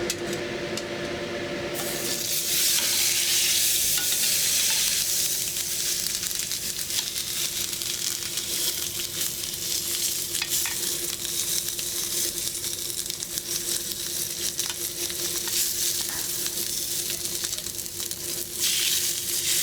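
Stingray coated in sambal sizzles loudly and steadily on a banana leaf over a grill, a dense continuous frying hiss close by.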